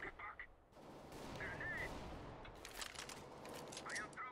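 Gunfire in the video game CS:GO, bursts of gunshots faint under a player's speech, with short electronic tones from the game.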